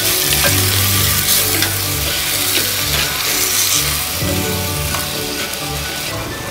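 Mango, drumstick and tomato sauté in a pan with a loud, continuous crackling sizzle, close up, with faint occasional stirring knocks.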